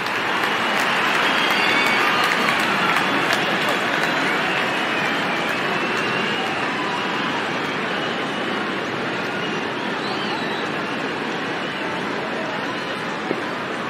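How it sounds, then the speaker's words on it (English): Crowd applause from the cricket video game Real Cricket 22, during an India versus New Zealand match, forms a loud, steady roar that fills the whole stretch without letup. "Such a wonderful crowd in to watch their favorite players"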